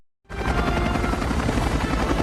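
Rescue helicopters in a film start up abruptly after a moment of silence, then a loud, steady, rapid rotor thumping carries on without a break, close and dominant with no speech over it.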